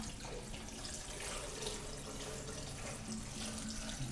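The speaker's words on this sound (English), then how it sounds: "Now I'm going to add a healthy amount of water." Water pouring steadily into a blender for papermaking, a continuous close splashing rush with no talking.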